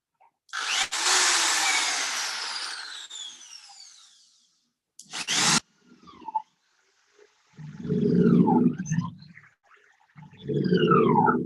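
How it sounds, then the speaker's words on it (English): A drilling machine fitted with a 10 mm bit bores into a wood log for shiitake mushroom spawn, giving a long loud whine that fades, then short bursts of drilling separated by pauses. "So you have to take the drilling machine 10 mm feet."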